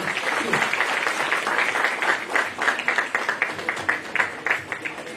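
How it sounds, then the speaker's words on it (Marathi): Loud sustained applause from an audience at a live thalassemia charity event, for Kamalnayan Bajaj, dense clapping that carries on, thinning into more distinct individual claps toward the end. "जोरदार टाळ्या त्यांच्यासाठी झाल्या पाहिजे"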